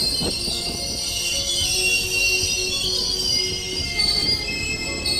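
Air pressure hissing out of a train's braking system, a steady high-pitched rush that holds loud and unbroken over a low rumble of railway cars, with no talking.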